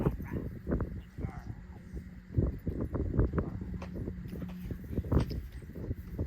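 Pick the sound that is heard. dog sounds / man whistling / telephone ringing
dog sounds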